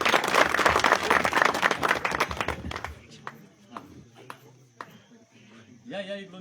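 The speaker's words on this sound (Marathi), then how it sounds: "टाळ्या वाजवा." A crowd at a political speech in Longaon breaks into loud, dense clapping for about three seconds, then it thins to scattered claps as a voice carries on over a public address system.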